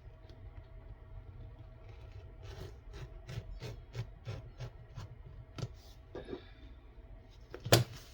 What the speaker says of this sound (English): Let's see how my rotary cutter likes this.